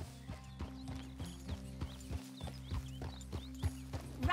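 A horse gallops in Red Dead Redemption, its hooves clip-clopping in a steady, quick rhythm close by with faint tack jingles, no talk over it.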